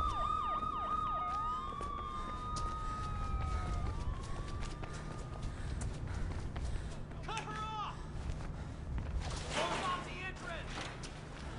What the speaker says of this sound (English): sirens are never good for this game